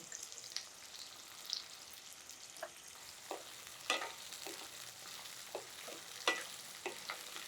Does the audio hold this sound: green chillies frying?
yes